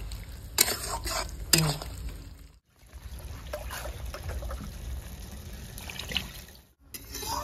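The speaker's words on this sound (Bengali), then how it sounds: "ঝোলটা টকবক করে ফুটছে কিন্তু" Rohu fish curry broth with fried potatoes bubbles at a steady rolling boil in a rural kitchen pot, with a continuous close, wet simmer and a few sharper clinks and stirring sounds breaking through.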